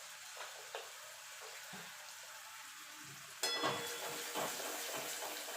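Kashmiri chilli powder and cumin powder hit hot oil for a paneer masala. After a quiet start, the oil erupts into a sudden loud sizzle that keeps crackling and bubbling while the pan is stirred.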